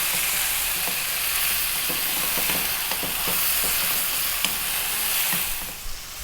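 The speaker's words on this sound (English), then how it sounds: "Let's just cook these tomatoes down a little bit while our potatoes are softening." Tomatoes cooking down in a pan alongside softening potatoes for a corned beef dish, a steady close sizzle with scattered light stirring clicks throughout, no voices.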